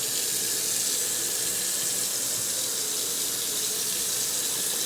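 Water runs steadily from a sink faucet onto a dry hand towel, a constant hissing splash at close range that continues unbroken throughout, with no talking.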